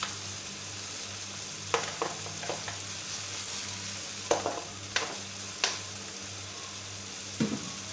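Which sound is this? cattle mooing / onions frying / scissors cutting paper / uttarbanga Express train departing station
onions frying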